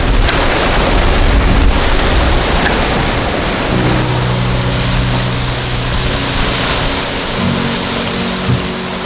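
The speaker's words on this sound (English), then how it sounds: "Once in a while we get slammed by a big wave, but mostly following seas." Ocean waves wash around a sailboat at sea south of Madagascar in following seas, a loud, continuous rushing of surf and wind buffeting the microphone, with a low hum of the boat underneath.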